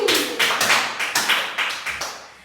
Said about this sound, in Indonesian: Boleh tepuk tangan untuk Dewi.